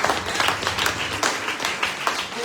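Audience at a student jazz combo concert clapping for the group's arranger, a brief burst of close, dense applause that carries at a steady level throughout.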